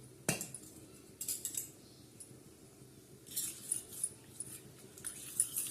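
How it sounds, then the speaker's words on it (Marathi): A spoon mixes flour batter into a thin onion curry with peanuts and green chillies, making quiet, scattered metallic clinks and scrapes against the pot that quicken toward the end. "हे असं एकजीव करायचं चांगलं गरा गरा गरा चमच्याने असं चांगलं पातळ ग कालून घ्यायचं"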